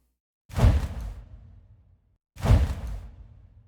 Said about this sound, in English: For this, I basically use my blanket recordings and some swooshes from the Soundly library.